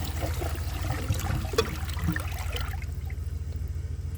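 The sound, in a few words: toilet flushing with a dish towel in the bowl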